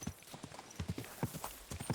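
Horse hooves in Kingdom Come: Deliverance 2 clip-clop in a quick, uneven rhythm, close and fairly soft, with no talk over them.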